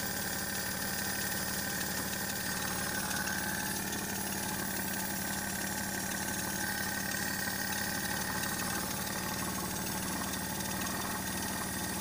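The carbureted engine of a Maruti 800 car idles at low rpm while its idle speed is being adjusted, a steady near drone with even vibration throughout and no talking.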